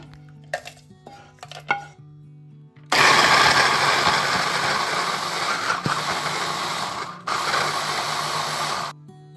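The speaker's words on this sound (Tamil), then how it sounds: "இப்போ மிக்சியில் போட்டு கொஞ்சம் இறக்க போகிறேன்" An electric mixer grinder whirs loudly as it grinds cooked sambal ingredients, running steadily for several seconds with a brief pause mid-run, preceded by a few clinks of the jar being set in place.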